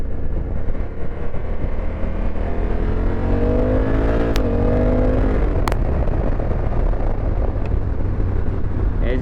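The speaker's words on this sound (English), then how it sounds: "It's really crazy how nice this bike accelerates." 2024 Honda Africa Twin motorcycle accelerating on the road, its engine note climbing through the revs, shifting gear and climbing again under heavy wind rush at the microphone.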